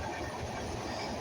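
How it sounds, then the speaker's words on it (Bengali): The Madhumati Express passenger train on the Dhaka to Rajshahi line starts moving in heavy rain, making a brief, even rumble and hiss from inside a carriage. "তো বৃষ্টি স্নান নিয়েই ট্রেন চলতে শুরু করে"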